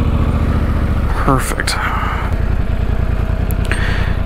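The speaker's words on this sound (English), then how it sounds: "Oh, motorcycles." Motorcycle engines rumble steadily nearby on Indian Pass Road along the California Backcountry Discovery Route, a continuous throaty drone with a brief rising rev as a voice speaks over it.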